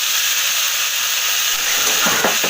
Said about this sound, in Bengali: এবার এর মধ্যে আমি লাউটা দিয়ে দেবো